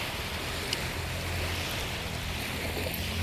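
Sea waves wash onto a sandy beach at sunset in a steady, soft rush of surf with a low, faint wind rumble underneath and no voices.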